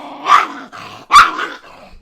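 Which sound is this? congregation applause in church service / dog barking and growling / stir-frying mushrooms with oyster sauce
dog barking and growling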